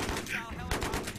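Rapid automatic gunfire from a video game shooter, a loud dense burst of repeated shots rattling through the whole brief moment with no talk over it.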